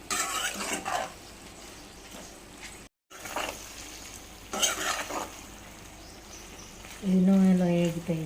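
Egg mixture seasoned with salt fries in a pan while being stirred, a steady close sizzle with scraping spoon strokes throughout and a voice speaking over it.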